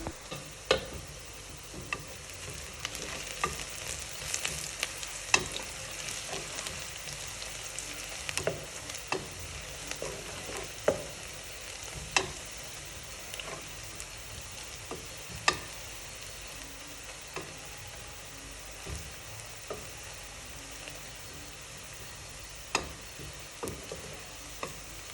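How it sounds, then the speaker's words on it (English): Onions sizzle and fry in a pot for pilau while a spoon stirs them, a steady soft crackle broken by sharp scraping clicks against the pot, with no talking. "I'll keep mixing, because at this point if I'm not careful, my onions are going to burn."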